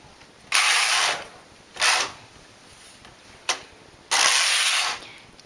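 Carriage of a domestic knitting machine knitting rows in red and white yarn, heard as four separate broadband rasping sweeps of differing lengths with quiet pauses between, close and fairly loud, no voices.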